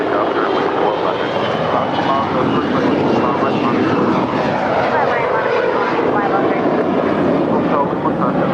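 An airliner takes off from runway 25 right at LAX, its engine roar loud and sustained throughout with a broad rushing tone, while voices speak over it.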